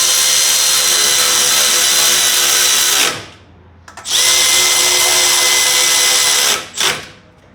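A power tool drives and tightens bolts while servicing a Murray MT100 riding mower, sounding in two loud, steady whirring bursts of about three seconds each, separated by a short pause and ending with a brief blip.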